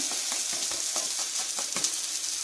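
Rice-batter flatbread fries in ghee on a pan, giving a steady close sizzle with faint crackles and a few light clicks throughout.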